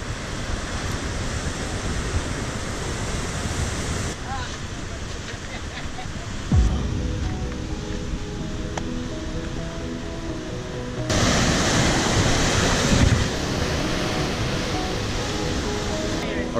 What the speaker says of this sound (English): so we got down to the beach